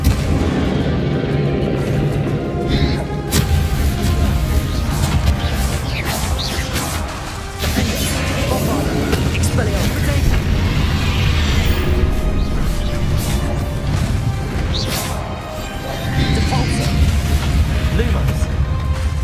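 Spell explosions from Bombarda and Confringo in Hogwarts Legacy, loud rumbling booms and crashing bursts layered into a dense, continuous battle din with repeated heavy impacts.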